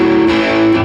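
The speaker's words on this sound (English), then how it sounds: "Because otherwise, if we didn't use the palm muting," A distorted electric guitar power chord strummed open without palm muting, ringing as a thick, buzzing sustained chord at steady loudness for under a second, with no voice over it.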